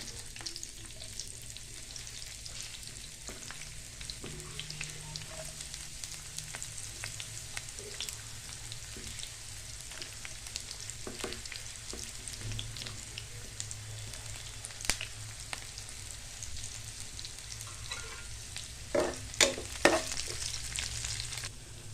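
Onions and curry leaves frying in a pan for a capsicum masala curry, making a steady crackling sizzle with occasional stirring scrapes that grow louder near the end, no talk.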